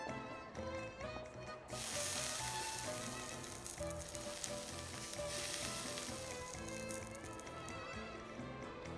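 Food sears in a pan in the video game Genshin Impact: a loud, hissing sizzle bursts in after a quiet start and holds steady, layered over tuneful background game music.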